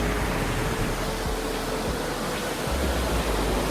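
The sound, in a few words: beach ambience, waves at sunset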